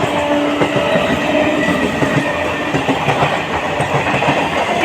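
A train runs loud and close, its heavy continuous rumble carrying rhythmic clickety-clack of wheels over rail joints and a faint high squeal, with no voices.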